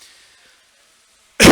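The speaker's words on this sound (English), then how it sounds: "excuse me for that cough too." A single sharp cough bursts loudly into a close microphone after a stretch of near silence, short and forceful at the very end.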